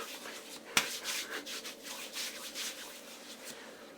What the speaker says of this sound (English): Let's just rub it in all over.